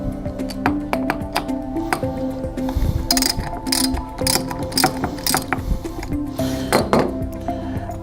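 A 17mm socket wrench ratchets loose a front bolt during a primary belt replacement, giving rapid close metallic clicks in repeated bursts with brief pauses and gear-like clinks between.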